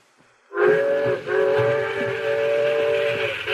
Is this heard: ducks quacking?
no